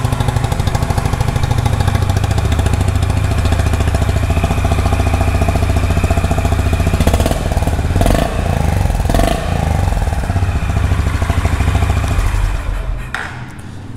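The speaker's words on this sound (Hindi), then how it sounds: "इस साइड से इसका आप एग्जॉस्ट साउंड को सुन सकते हैं।" A 2022 Honda H'ness CB350 single-cylinder motorcycle idles with a close, loud, steady exhaust thump. The low-pitched beat holds even for about thirteen seconds, then the engine cuts off and the sound dies away.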